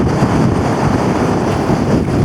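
Strong wind buffets the microphone on the summit of Wansfell Pike in a steady, loud roar with low rumbling gusts throughout, no voices.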